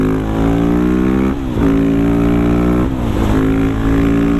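A Husqvarna 701 supermoto motorcycle's single-cylinder engine drones loud and close at steady high revs, with two brief dips and pitch drops as the rider shifts gears before climbing again.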